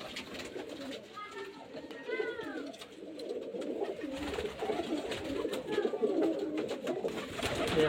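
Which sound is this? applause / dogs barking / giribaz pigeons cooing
giribaz pigeons cooing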